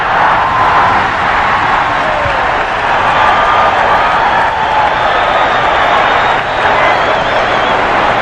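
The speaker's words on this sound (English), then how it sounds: "this is a Western crowd, and they're up on their feet cheering that play by Dr. J." A packed arena crowd at the NBA All-Star Game in Denver's McNichols Sports Arena roars and cheers steadily for a play by Dr. J, a loud continuous wash of voices with commentary talking over it.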